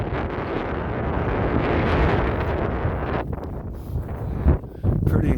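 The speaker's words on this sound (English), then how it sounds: "Pretty incredible, nice cool wind." Strong, cool wind gusting steadily across an open rocky landscape with a rock shelf and drop in eastern Oklahoma near the Arkansas River, a continuous loud buffeting roar on the microphone that eases and surges in the second half.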